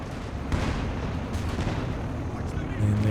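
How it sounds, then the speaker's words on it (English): A grenade blast and surrounding battlefield rumble in Company of Heroes 2, a dull boom among ongoing distant gunfire and artillery, with a commentator speaking over it. "Grenade in, conscripts dodge forwards."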